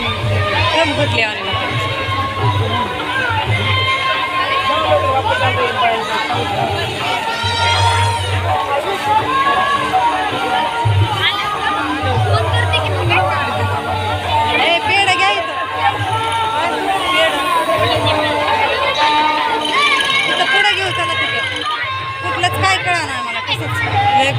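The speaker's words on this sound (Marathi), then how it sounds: "गर्दीच्या साईडने चला असं चला" A dense temple crowd gathered for Pandurang darshan fills the space with steady babble and overlapping voices, people talking close by throughout.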